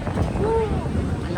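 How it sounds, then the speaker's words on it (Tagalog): Strong wind buffets the microphone outdoors on Broadway in New York during the holiday season, a steady rushing roar with faint city sounds underneath. "Ang lakas ng hangin pero ang sarap."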